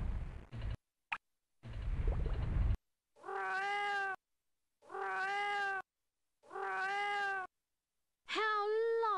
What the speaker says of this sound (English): A kitten.